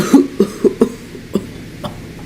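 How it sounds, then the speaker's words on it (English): A run of about six short, weak coughs in quick succession, fading as they go, close and clear with nothing else around them. "coughed feebly"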